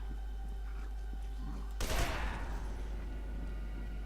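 Gunfire in the first-person shooter F.E.A.R. 2: Project Origin, one sudden loud burst of shots that fades into a rumbling tail over a low, steady game drone, with no talking.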